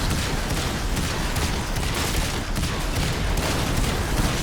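Dense, continuous gunfire in the sci-fi shooter Warframe, rapid overlapping shots and blasts forming a steady loud barrage for the whole stretch, with no pauses and no talking.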